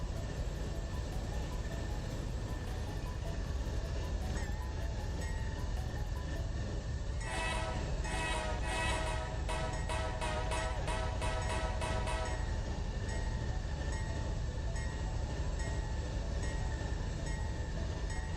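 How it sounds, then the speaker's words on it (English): A train rolls along tracks in a Roblox railway game, a steady rumble with a burst of rhythmic clattering over the rails midway before the running noise settles back. "time to ride a train."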